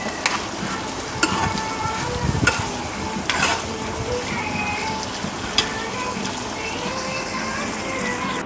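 Ivy gourd fries in a pan for chutney with tamarind and other ingredients, a steady close sizzle broken by sharp stirring scrapes, with a voice talking over it.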